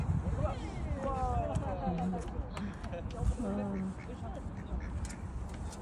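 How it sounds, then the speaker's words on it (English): Several ducks quack in scattered bursts over a busy outdoor background, with people talking nearby throughout. "The street ducks are having fiesta."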